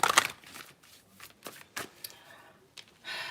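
A deck of tarot cards being shuffled by hand at close range, with quiet riffles and sliding flicks in short uneven bursts, soft overall with a brief louder rustle at the start and end.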